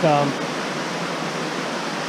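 A small waterfall in a brook pours down into the little pool at its base. It makes a constant, full rushing hiss, with a brief voice-like tone at the very start.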